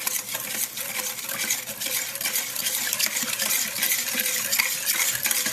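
Kansas City sweet rib sauce ingredients, seasoned with salt and pepper, being stirred and mixed in a bowl or pot, a steady scraping and swishing that runs throughout at close range, with no voices.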